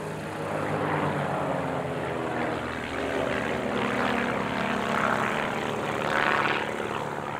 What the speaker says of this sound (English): Four aircraft in towards us on the B-axis for an opposition break